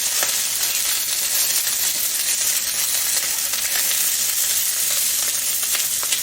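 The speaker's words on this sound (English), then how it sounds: "I'm going to fry about 4 of these." About four pork chops fry steadily in a hot pan, giving a continuous close, even sizzle with faint pops throughout and no talking.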